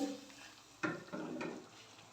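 A pot of fish curry held with a cloth and shaken instead of stirred, giving a few short scraping, sloshing bursts of metal and sauce with quiet gaps between.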